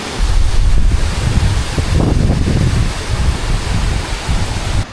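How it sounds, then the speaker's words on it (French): Surf surges and splashes in a steady, roaring wash of water on the New Zealand coast, loud and close, with heavy wind buffeting the microphone throughout and no voices. "l'eau, quand ça va très fort, eh ben ça éclabousse"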